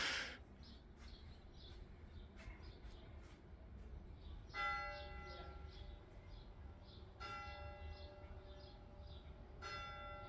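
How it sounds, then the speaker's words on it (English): A clock in Port Chalmers chimes several ringing bell strikes spaced a couple of seconds apart, faint and distant over a soft background hum. "We have the clock chiming in Port Chalmers."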